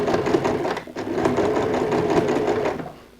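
A sewing machine runs steadily, sewing a long stitch along the side panel of a handmade magazine-print handbag, with a continuous close whirring hum that holds for about three seconds before easing off.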